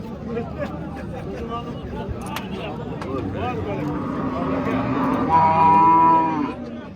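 A cow lets out a long, loud moo near the end, rising over a busy crowd of people talking at a livestock market.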